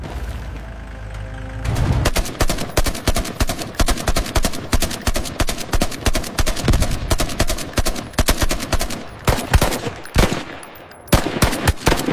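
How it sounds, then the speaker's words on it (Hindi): Rapid, dense gunfire fired at an army officer during an armed police-versus-army standoff: sustained volleys of sharp, loud shots in continuous bursts, with a brief lull near the end before the firing resumes. "तुम लोग देश के रक्षक होकर इंडियन आर्मी के ऑफिसर पे गोलियां चला रहे हो"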